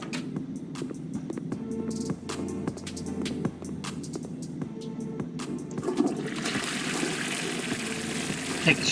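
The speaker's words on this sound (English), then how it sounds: "Take a shower" Running water in the Metro City Sim video game, a shower-like gush swelling into a broad hiss toward the end, moderately loud, with small clicks and knocks scattered through.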